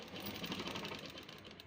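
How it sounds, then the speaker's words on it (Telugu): A sewing machine stitching tucks on a blouse, a steady, even mechanical whir with fast rapid needle patter, close and unbroken for a short stretch. "ఇక్కడ ఒక టక్స్కి మనం ఇలా కుట్టు వేసేసుకున్న తర్వాత ఇక్కడ వేసుకున్న టక్స్ కూడా ఇలానే వేసేసుకోవాలి"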